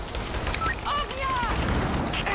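Loud, dense bursts of gunfire from Rise of the Tomb Raider with whistling, ringing tones layered over them, and a voice faintly mixed in.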